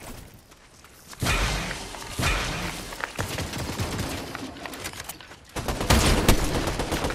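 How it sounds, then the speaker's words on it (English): Bursts of rapid gunfire in Fortnite crackle in dense volleys, loud and close, with heavier thumps of shots layered over a constant noisy background. "I just got sniped."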